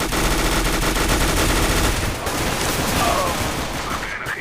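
Rapid automatic gunfire from a low-damage, high-rate-of-fire video game weapon, a dense unbroken stream of shots that stays loud for the whole stretch with a brief dip midway.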